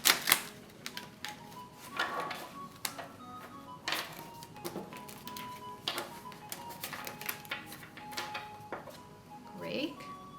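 Tarot cards shuffled by hand, giving crisp papery clicks and brief riffling bursts at irregular intervals, close and fairly quiet, over faint steady tones.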